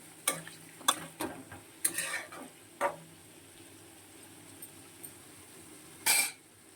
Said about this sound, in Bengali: আলু পেঁয়াজটা প্রায় ভাজা হয়ে গেছে, আর একটু হবে।